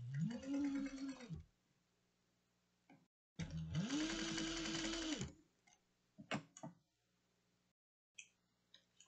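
A sewing machine stitches a fabric and vinyl cross-body sling in two quick runs of rapid whirring, each rising and falling in pitch, with quiet pauses and small clicks and handling noises between them.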